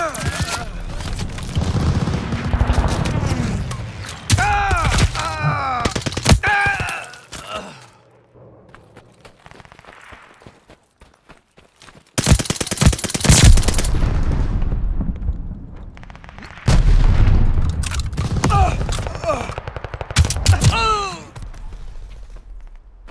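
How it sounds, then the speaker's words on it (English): Hostile aircraft strafing runs in the Call of Duty Vanguard shooter game, loud bursts of rapid gunfire and booming impacts in several waves with quiet gaps between, mixed with shouted in-game voice calls. "Hostile strafe inbound!"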